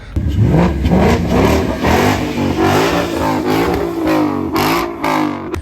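A sports car exhaust revving loudly and up close at a car meet in the Swiss mountains, the engine note rising and falling through several throttle blips with a deep, rumbling roar.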